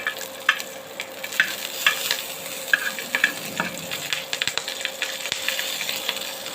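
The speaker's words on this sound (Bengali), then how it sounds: "মরিচটা ভালো করে আগে ভেজে নিতে হবে" Chillies fry in a pan, giving a steady sizzle broken by light scraping taps of a spoon stirring them, close and moderately loud, with no speech.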